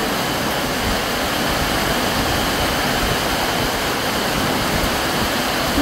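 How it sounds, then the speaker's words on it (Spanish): A heavy rain downpour in Jabalí pours down as a steady, loud, dense roar of water, unbroken and close, with no voices heard. "¿Qué aguacero, hija?"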